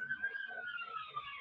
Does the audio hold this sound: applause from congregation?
no